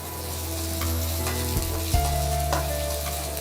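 Shallots and medium square onion pieces sautéing in a pan for prawn koottucurry, a dense steady sizzle with a few short stirring knocks and scrapes, close and alone without speech.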